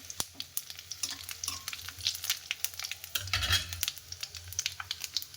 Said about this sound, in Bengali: তেলটা গরম হয়ে গেছে, কয়েকটা শুকনো লঙ্কা, কিছু 5 ফোড়ন, কয়েকটা তেজপাতাও দিয়ে দিলাম।